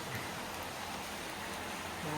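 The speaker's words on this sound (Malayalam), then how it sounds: "ഭയങ്കര മഴ ഭയങ്കര കാറ്റ്" A steady, dense hiss of heavy rain pours continuously without letup, filling the whole clip.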